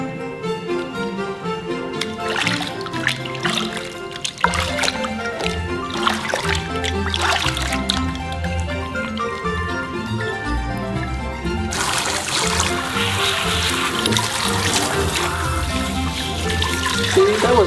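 Water pours steadily from a tap during a Labrador puppy's bath, a continuous splashing stream that turns brighter and hissier partway through.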